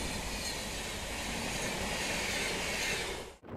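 The Shaktipunj Express, a Howrah–Jabalpur passenger train, rushes past at close range as a loud, steady roar of wheels and rail noise, fading sharply at the very end.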